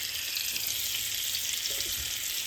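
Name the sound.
butter sizzling in a hot pan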